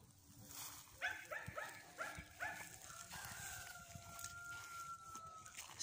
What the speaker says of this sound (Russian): Соседи тут лают и кукарекают.